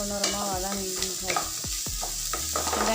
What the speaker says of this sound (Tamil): வெங்காயம் நல்லா பொன்னிறமாக வதங்கணும்